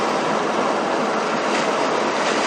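Steady, loud broadband road and engine drone from inside a 2007 Ford Taurus SE cruising at about 60 mph and 2,000 RPM, a continuous rushing hum with no speech.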